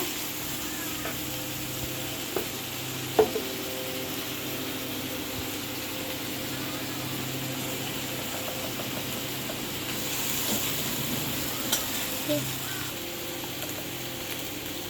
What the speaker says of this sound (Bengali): আদা রসুনটা পেঁয়াজের সাথে একটু ভেজে নিয়েছি